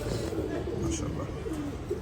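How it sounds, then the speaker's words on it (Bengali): A crested female pigeon with a thick crest and boot beak coos softly in a loft, with a person talking over it throughout. "মোটা ঝুটির একটা মাদি কবুতর"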